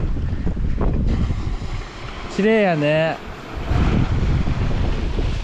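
Winter sea waves and gusty wind on the Izu Peninsula coast, a steady broad roar of surf and wind buffeting the microphone, with a short spoken remark in the middle.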